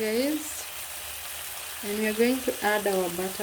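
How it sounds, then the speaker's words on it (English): Butter sizzles in a hot pan with steak, a steady close hiss running beneath a person talking. "we are going to add our butter"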